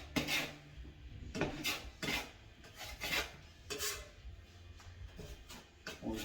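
Drywall knife scraping joint compound onto a butterfly drywall patch, a series of rough rasping strokes in an irregular rhythm, close but fairly quiet.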